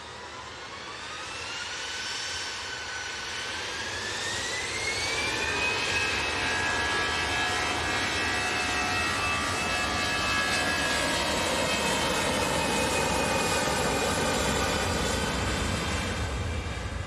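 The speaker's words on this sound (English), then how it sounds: "See the Eurowings coming out towards us" A Eurowings jet airliner taxiing out at Manchester Airport, its engines producing a loud, steady roar with whining tones that rise and swell as it approaches, then hold near and strong.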